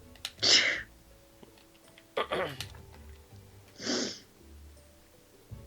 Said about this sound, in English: a stoic and badass sneeze